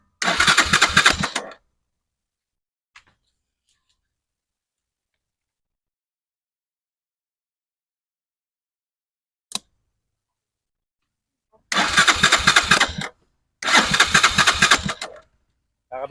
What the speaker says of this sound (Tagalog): Papaanda rin natin yung motor.